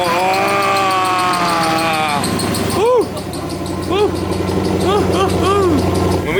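Damaged ZR1 Corvette under rebuild, previously hard to start and smoking, its engine running at a loud, close idle with a steady throb and a few small rises and dips in revs, no one speaking over it.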